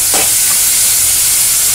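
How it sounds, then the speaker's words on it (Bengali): Onion fries in oil with a loud, steady hissing sizzle throughout, close and continuous, with a brief soft stir near the start. "এই পেঁয়াজটা আমি ভালো করে ভেজে নেব।"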